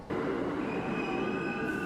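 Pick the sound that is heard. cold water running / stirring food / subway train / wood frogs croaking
subway train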